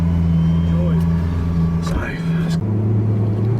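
A Lamborghini Aventador SV pulls away on its first drive in first gear with smooth clutch engagement, a low steady engine hum that briefly surges and then settles into a lower drone, while someone talks over it.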